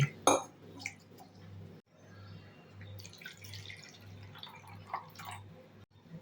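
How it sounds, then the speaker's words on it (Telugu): Half a cup of moong dal is rinsed in water, giving soft sloshing and a few small drips, quiet and close, with a low steady hum underneath. "పెసరపప్పు 1/2 కప్పు తీసుకొని శుభ్రంగా వాష్ చేసుకోవాలి"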